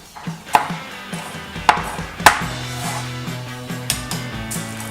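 A sharp knife chops Roma tomatoes on a board for pico de gallo, with a few distinct, spaced cuts over a low background hum and no speech.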